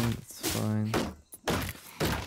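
Heavy thuds and crunching hits sound as objects are destroyed in the game Dysmantle, three or four solid impacts with a voice sounding between them.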